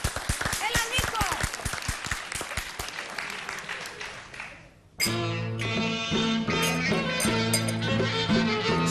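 Studio audience applause on a television panel show set, a dense burst of clapping for a contestant named Nikos that fades and gives way to loud music and voices.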